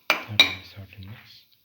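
Utensil clanking in a pan while mixing chicken liver with salt, two sharp metallic knocks followed by softer scraping taps that fade out, close and alone.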